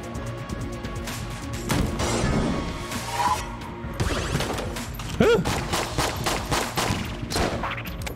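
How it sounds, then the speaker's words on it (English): Dense, continuous gunfire and bullet impacts from Enter the Gungeon, a bullet-hell shooter, crackling and crashing over a game soundtrack with sharp bursts throughout, while a voice speaks briefly. "There's too many bullets coming at me."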